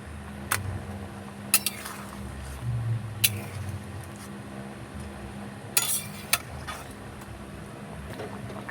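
Pot lid lifted and fish dropped into a simmering pot with lentil dumplings, a few sharp metallic clinks and a soft splashy thud over low kitchen hum, close and fairly quiet.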